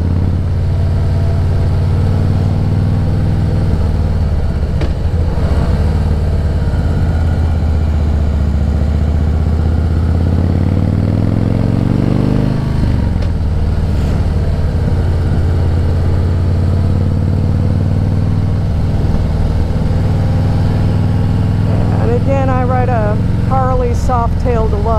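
A 2012 Harley-Davidson Softail Deluxe engine rumbles steadily at idle, a constant close low throb with faint shifts in pitch, and a voice briefly speaks near the end.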